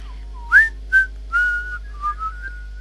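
A character in the video game The Darkness whistles a tune, a handful of clear rising and gliding notes in short bursts, loud and close with no talk.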